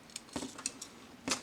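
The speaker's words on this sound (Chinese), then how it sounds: "把中间的扣子记得 插到底，咯嘣一下锁住它" Parts of a small plastic Transformers toy click and snap together during transforming, giving several sharp, close little clicks spaced irregularly over a second and a half, with no speech.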